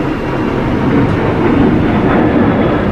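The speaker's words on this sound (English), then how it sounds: "Oh, hear the airplane." Airplane flying overhead at a scenic outdoor viewpoint, a steady broad roar filling the whole clip with no talking.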